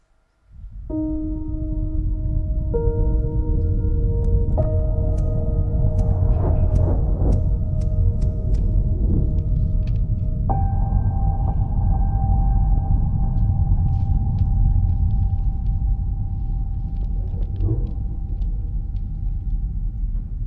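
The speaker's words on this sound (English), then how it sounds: "Its animated reveal, complete with a rise in sound design, perfectly captures our momentum" Animated logo reveal for a women-in-tech community launch, scored with rising sound design: layered sustained synth tones step upward in pitch over a deep continuous rumble, steady and loud for about twenty seconds, with no voices.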